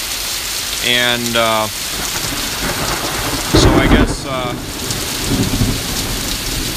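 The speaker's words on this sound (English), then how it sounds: "I guess it's just raining so hard and so frequently that we're getting killed here." Heavy, steady rain pours down with a loud burst of thunder partway through, the downpour on a sandy-soil yard staying dense throughout while a person speaks briefly over it.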